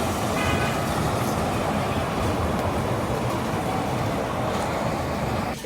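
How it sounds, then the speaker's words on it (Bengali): A small amusement park ride train runs nearby at a park in Jashore, a loud, steady rumbling roar of wheels and motor with no break. "ট্রেন চলছে।"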